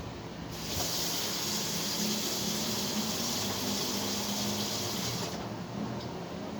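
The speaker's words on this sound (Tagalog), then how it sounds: "Buhusan muna natin yung tubig." Water is poured onto leftover charcoal at an outdoor grill, a steady rushing hiss that lasts about five seconds and then tapers off, with no voices.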